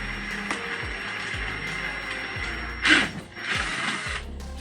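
A power tool enlarges holes in a plastic kayak crate, producing a rhythmic series of mechanical ratcheting clicks with two louder bursts of whirring near the end, close and without speech.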